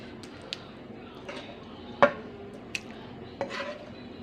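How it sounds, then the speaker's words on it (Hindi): Zucchini curry being ladled from a pot into a serving dish: a few scattered clinks and scrapes of a spoon against metal and ceramic, fairly close, with quiet pauses between them and no talking. "हम अब डिश आउट करते हैं इसको।"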